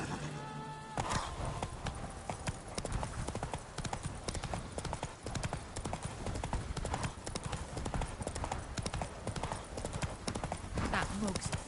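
Roach the horse gallops in The Witcher 3, a dense and continuous rush of hoofbeats heard close and loud for the whole stretch, with a voice talking over it.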